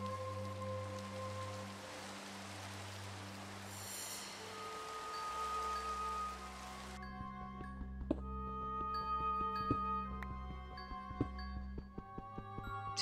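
Rain falling in Minecraft, a soft steady patter under game music tones that fades partway through as the music continues alone.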